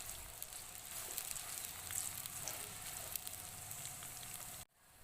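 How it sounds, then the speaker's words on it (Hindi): Onions sauté with whole cumin in a pan, giving a soft, steady crackling sizzle with faint pops that carries on evenly and then cuts off abruptly near the end, with no one talking. "और अब हम इसको अच्छे से सौते कर लेंगे, इतना कि प्याज जो है वो अच्छे से सॉफ्ट हो जाए"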